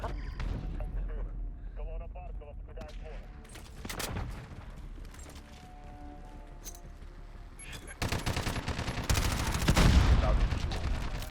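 Gunfire rattles in Call of Duty Modern Warfare, with bursts of rapid automatic shots that grow heavier and louder near the end, while voices and game radio chatter talk over them.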